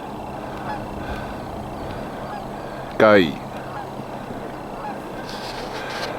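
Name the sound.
ring-billed gull calling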